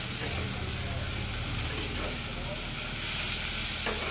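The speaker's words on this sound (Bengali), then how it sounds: "ডিমটা ভাজা ভাজা হয়ে যায় আর মশলার সাথে মিশে যায়" An egg fries with spices in a pan for an egg tarka, giving a steady close sizzle and hiss with faint stirring scrapes and no talking.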